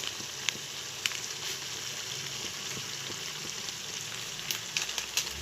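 Ground spices such as cumin, turmeric and chili frying in hot mustard oil, a steady bright sizzle with a few sharp crackles and pops, close and continuous.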